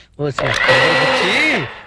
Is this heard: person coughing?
no